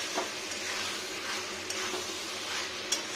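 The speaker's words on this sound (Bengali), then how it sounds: "ভালো করে ঝেড়ে কষাবো সুন্দর করে, যাতে সব জায়গাটা সমানভাবে কষানো যায়" Chicken pieces and plenty of green chilli sizzle steadily while being sautéed in a pan, a continuous close frying hiss with a few faint utensil clicks.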